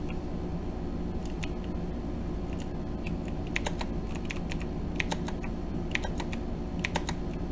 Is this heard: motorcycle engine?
no